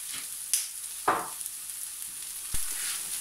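Onions sizzle quietly in a pan for scrambled-egg toast, a steady fine hiss with a few brief stirring scrapes and clinks breaking through, close and moderately soft.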